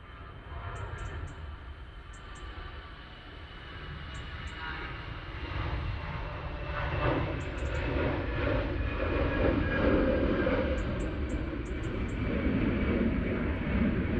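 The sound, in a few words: EasyJet airliner rolling down runway at Manchester Airport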